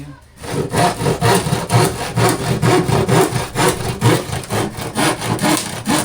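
A hand saw rasps back and forth through wood in steady, rhythmic strokes, close and loud, with a brief pause at the start.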